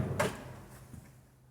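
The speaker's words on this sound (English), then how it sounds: "And as I close the door again" A soft-close pull-out larder door in a fitted kitchen cabinet slides shut, with a brief thud of the frame settling, then a quiet glide and a faint second knock as it closes fully, heard alone at close range.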